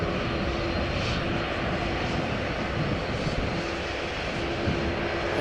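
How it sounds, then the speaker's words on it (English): A KLM Boeing 787-10 Dreamliner taxiing past at Amsterdam Schiphol Airport gives a steady, loud, broadband engine roar with a faint tonal whine, holding constant throughout with no voices. "An a 787-10 Dreamliner that has just arrived from Las Vegas, passing in front."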